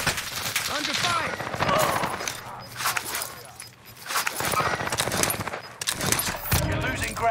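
Dense automatic gunfire from Call of Duty Warzone on Rebirth Island crackles in rapid bursts nearly nonstop across the clip, loud and close, with voices talking over it and scattered clatter in the mix.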